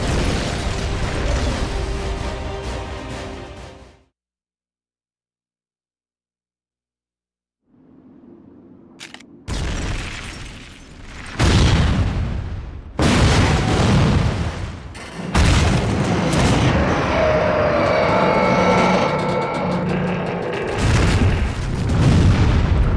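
Loud booming blasts and mechanical crashes as the Peace Walker mech is destroyed in the video game Metal Gear Solid: Peace Walker, with a sudden silent gap before a string of heavy explosions and clanking machinery.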